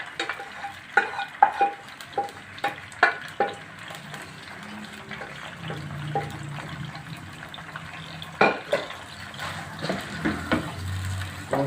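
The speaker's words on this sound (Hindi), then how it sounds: "गोश्त को अच्छे से भूनना है।" Tender mutton pieces fry in a kadhai, a steady sizzle broken by repeated sharp scraping and clanking strokes as the meat is stirred and turned, with sizzling sounds close and clear and no talking.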